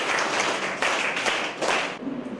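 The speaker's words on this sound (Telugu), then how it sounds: "గట్టి క్లాప్స్." A group claps loudly in a room during a tower-building business game, the applause arriving in several surging bursts before thinning out at the end.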